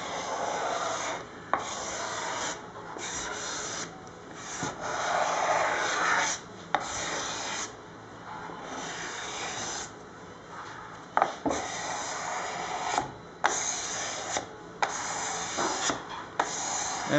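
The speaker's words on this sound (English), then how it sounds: "when you scrape close to the edge, it wants to dig into the edge and take more material off" Rhythmic rasping strokes of a hand scraper drawn across the wooden body of a Les Paul guitar, repeated steadily with brief pauses between passes, close and clear with no talking.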